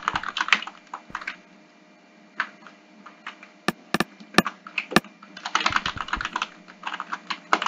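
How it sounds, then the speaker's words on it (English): Keys clacking on a computer keyboard during a Hypixel Skywars game, with bursts of rapid typing at the start and end and a few isolated sharp taps in a quieter middle stretch, close and fairly loud. "I don't know if you can hear the sounds of the keyboard"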